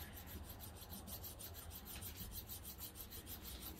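Steady rasping rub of a single bevel broadhead edge being reprofiled on a field sharpening kit, a continuous close scraping with faint repeated strokes and no talk.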